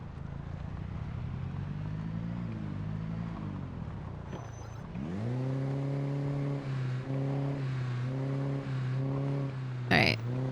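A loud video-game vehicle engine drones and revs while backing up, its pitch rising and holding with stepped surges, alongside game noise.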